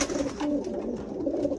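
Racing pigeons coo softly at their loft, several low rolling calls repeating at a relaxed pace, close by over faint background noise, with no talking.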